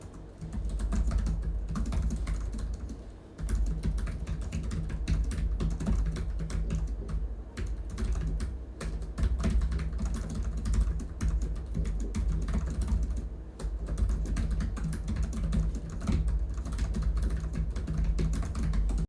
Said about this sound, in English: I'll give you a little bit of a feel of the keyboard itself. So just pause a moment here and we'll do a little bit of a quick typing test.